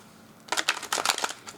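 Tarot cards shuffled by hand in a quick run of crisp, papery riffling bursts, close up and fairly loud, with silence before the shuffling starts.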